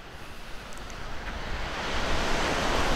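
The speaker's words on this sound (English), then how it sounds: "This is the Pacific Ocean." Pacific Ocean surf at Seacliff State Beach in Santa Cruz, California: a steady, close wash of breaking waves that swells louder toward the end, with no talk.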